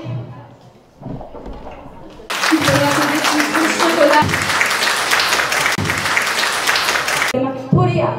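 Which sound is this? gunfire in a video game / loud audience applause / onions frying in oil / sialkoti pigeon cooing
loud audience applause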